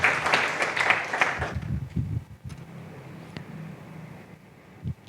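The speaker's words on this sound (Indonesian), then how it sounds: "berikan tepuk tangan meriah buat Tuhan kita" A church congregation at an online worship service claps in a brief burst of applause, which fades after about two seconds into a quieter room.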